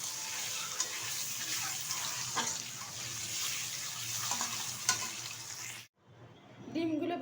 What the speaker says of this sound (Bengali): এখন আমি এটা ভালো করে ভেজে নেব।